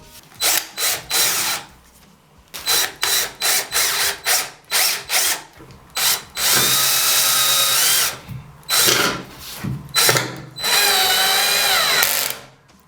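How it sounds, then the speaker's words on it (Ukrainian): A Start Pro cordless screwdriver drives small furniture screws with its clutch on the first setting, giving a series of loud, close whirring bursts. Some are short pulses and some are longer runs, with the clutch ratcheting between them. "давайте тепер подивимося, як шурпокрут працює з маленькими мебельними саморізами"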